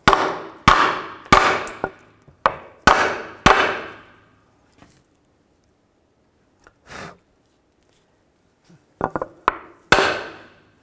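A hammer strikes a block of wood to tap a rear axle seal into a 2000-06 GMC Yukon. A quick series of sharp, close knocks is followed by a quiet pause, then a few more raps.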